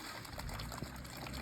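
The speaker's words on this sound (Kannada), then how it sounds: "ಇದು ಬೆಟ್ಟದ ಮೇಲಿಂದ ಬರ್ತಾ ಇರೋದು ನೀರಂತೆ ಇದು." Hill-fed water flowing from a natural mountain source during a road trip to Jog Falls, a continuous soft trickling wash that stays even and faint, with no talk over it.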